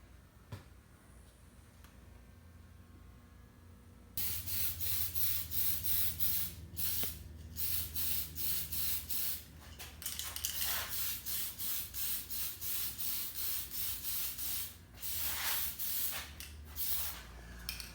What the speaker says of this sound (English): Okay, we got the primer on it,